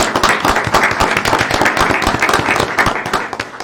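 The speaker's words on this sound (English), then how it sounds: "Let's give Jim a round of applause." Applause at a mayor and council meeting, with a small room of people clapping loudly and close by, individual hand claps standing out in an uneven rhythm for several seconds.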